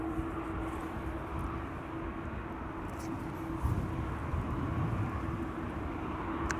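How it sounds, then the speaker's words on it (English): An Airbus A350 jet airliner approaches at Amsterdam Schiphol Airport as a low, distant, continuous rumble with a faint hum, quiet and steady throughout. "Here's the A350. It's coming this way."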